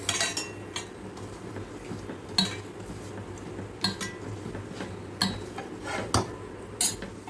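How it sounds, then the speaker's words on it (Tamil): Brinjal dal kadaiyal is ladled into a lunch box beside chapatis: repeated light metallic clinks and taps of a ladle against steel spaced every second or so, over a low steady background hum. "இந்த கத்திரிக்காய் பருப்பு கடையில் அதை ஊற்றிடலாம்"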